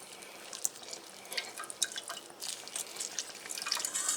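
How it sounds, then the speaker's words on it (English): Fresh lime juice squeezed directly into a pan of satay sauce, with soft close drips and small liquid splashes coming in irregular bursts, quiet and alone. "I juice the lime directly into the pan."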